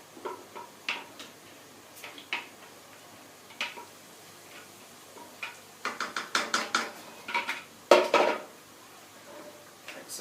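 A spoon stirs a yogurt, coconut and cumin paste into pineapple curry in a pan, with irregular light scrapes and clinks that grow denser and louder toward the end.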